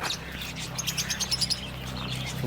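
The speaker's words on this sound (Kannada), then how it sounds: "ಬರ್ಡ್ಸ್ ಈ ಕಡೆ ಲವ್ ಬರ್ಡ್ಸ್" Lovebirds in a pet house chirp in quick, high, bright bursts, a busy cluster of overlapping tweets over a low background hum.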